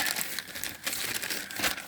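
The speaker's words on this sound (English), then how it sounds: "take the newspaper and stick it in the middle and crumple it all up, twist it" Newspaper being crumpled up and twisted by hand, a close, irregular crinkling and rustling with uneven bursts, no voices over it.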